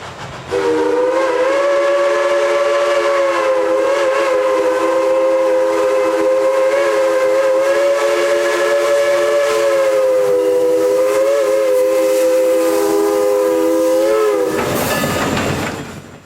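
Southern 154, a 2-8-0 steam locomotive, sounds a long, steady, loud whistle that holds for about fourteen seconds before cutting off, with the engine's running noise underneath.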